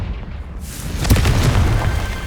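A Confringo blasting spell explodes in Hogwarts Legacy with a single loud boom about a second in, followed by a rumbling burst that lingers to the end.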